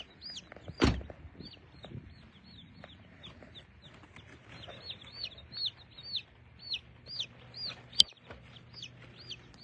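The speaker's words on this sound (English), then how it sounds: "We're gonna get these little chickens in the house, get them in their new home." Baby chicks peep steadily through the clip, a rapid run of high, bright chirps repeating close by, with a brief rustle and a soft thump early on and a sharp click near the end.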